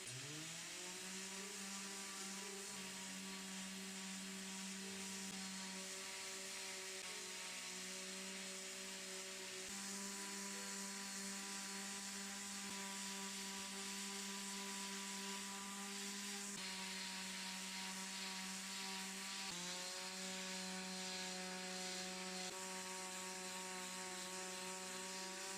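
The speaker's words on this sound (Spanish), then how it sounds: "puedo lijar con un grano grueso sin miedo" A steady, droning power sander grinds varnish off a solid wood table with 40-grit sandpaper, a constant mechanical whine with strong harmonic tones running continuously, with brief shifts in pitch as pressure changes.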